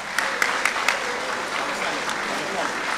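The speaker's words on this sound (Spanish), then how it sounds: "¡Fuerte el aplauso!" Audience at an amateur boxing league event applauds steadily, a dense wash of clapping with a few sharper close claps standing out, continuing evenly for the whole stretch.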